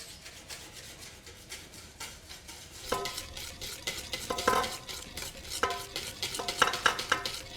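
Butter being whisked slowly into a warm egg sabayon for hollandaise, giving a soft continuous stirring swish with rhythmic metallic clinks of the whisk against the bowl. The clinks grow more frequent toward the end.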